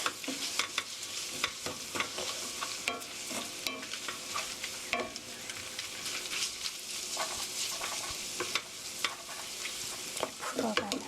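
Japchae noodles with green onion stir-fried in a hot pan, a constant sizzle broken by frequent scraping and clacking of utensils tossing the noodles, close and steady, with no voices.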